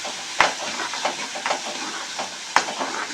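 Onion sizzling in a hot pan with mustard seeds and lentils for a cauliflower gravy, a steady soft hiss with faint stirring scrapes and two sharp clicks of a utensil against the pan, close and without talk.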